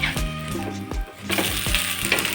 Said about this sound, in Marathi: याची बाजू पलटून घेऊ आपण